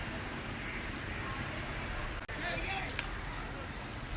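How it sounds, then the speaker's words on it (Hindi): Steady rain falling outside in a Pakistani village, a soft even hiss of drops on surfaces with a faint voice in the background. "बारिश आ गई है आज फिर"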